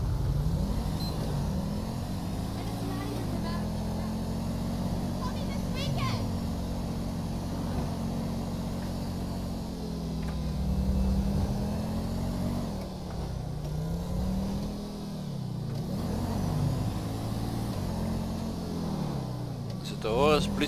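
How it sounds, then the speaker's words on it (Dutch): Police car driving in the video game GTA 5 with the LSPDFR mod, a steady engine drone with repeated rising and falling pitch changes as it accelerates and shifts, heard alongside talking. "Te horen is een politieauto."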